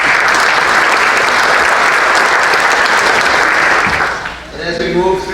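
Audience at the 2020 Fort Kent Chamber of Commerce dinner claps in a steady, full round of applause that dips near the end before a voice comes in.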